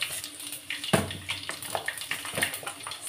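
Mustard seeds and fenugreek crackle and sizzle in hot oil left from frying fish, the start of a fish curry, with a sharp burst as they hit the oil and then a steady close, watery fizz with scattered pops.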